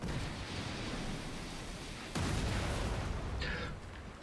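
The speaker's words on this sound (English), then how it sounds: "I don't want to get blasted by the cannon" Cannon fire in the video game Lies of P, a dense roaring blast of broadband noise that swells sharply midway and keeps rumbling loudly to the end, with no voices.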